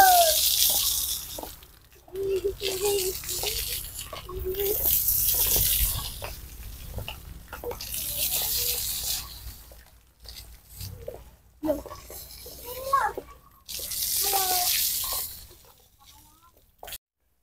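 A park water fountain runs at Taman Totok Kerot in Kediri. A continuous hissing splash carries through the scene while people talk nearby in bursts, and the water drops off briefly at moments.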